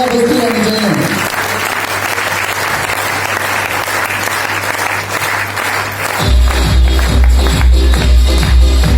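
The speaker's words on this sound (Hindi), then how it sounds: "एक बार इन सभी साथियों के लिए जोरदार तालियां।" A seminar audience claps loudly, with continuous, energetic applause throughout. Music with a heavy beat comes in partway through and plays under the clapping.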